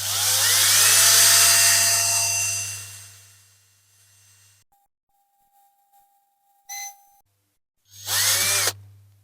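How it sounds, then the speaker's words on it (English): A power drill with a 4mm bit bores into a diecast Dinky Toys military ambulance, whining loudly for several seconds, stopping, then a short tone and a second brief burst of drilling. "before I move up to a bigger drill, I'm just going a bit deeper with that first drill"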